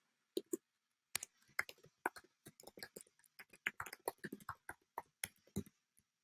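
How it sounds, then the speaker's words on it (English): Keywords typed on a computer keyboard, a quiet, close run of irregular clicking keystrokes with short pauses between bursts, no talking. "So I am just going to type in a few."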